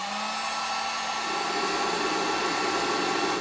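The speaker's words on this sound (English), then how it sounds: "then it will ramp up the fans, and you're going to hear the fans on the inverter also." Cooling fans on a 2000W pure sine wave inverter whir in a steady, close, airy drone that builds slightly in intensity, with no talking over it.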